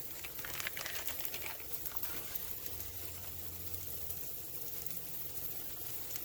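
Halved stick bacon sizzles on a griddle, a soft, steady crackle and pop with faint spits that runs without a break, fairly quiet, with no talking.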